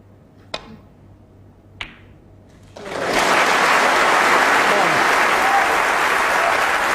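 Crowd applause breaks out at a snooker match during the 2008 World Snooker Championship final between Ronnie O'Sullivan and Ali Carter, following two sharp ball clicks; the clapping rises suddenly and holds loud and steady.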